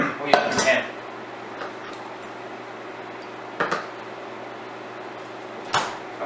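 Spinach leaves tipped into a pan at a home kitchen counter, with a clattering burst of dish and pan knocks near the start and two shorter clanks later, over a steady low hum.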